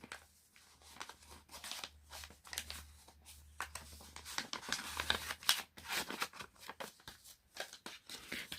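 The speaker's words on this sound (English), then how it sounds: "Let's put it back to the" A Blu-ray booklet from a Sound of Music limited edition set slides back into its paper envelope, giving close, steady rustling, crinkling and scraping of paper with brief louder swishes.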